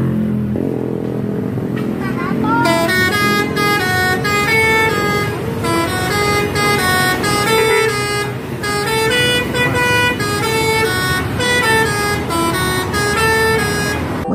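A Sindoro Satria Mas bus passes with its loud musical horn playing a long, rhythmic melodic tune over a heavy engine rumble, close and sustained for most of the stretch.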